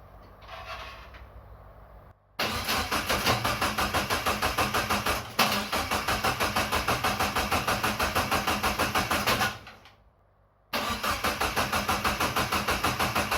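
A Nissan 200SX drift car engine cranks and catches, then runs at a steady, loud rumble, cuts out briefly, and restarts into a continuous running drone.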